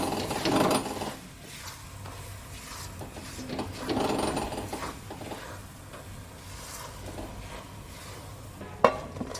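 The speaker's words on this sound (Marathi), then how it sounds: "मिरच्या घेऊया छान परतून वाटणामध्ये छान मिरच्या परतून घ्यायच्या आहेत" Green chillies sauté in a thick spice paste for bitter gourd pickle, giving a steady rasping, stirring scrape with a soft sizzle underneath, close and continuous, plus a sharp knock near the end.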